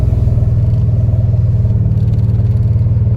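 Close, loud engine of a 1982 Porsche 928 held at raised revs, a steady throbbing rumble with a fast even pulse and light mechanical clatter and no speech.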